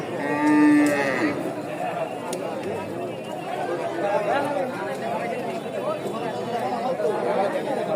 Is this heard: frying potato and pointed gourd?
no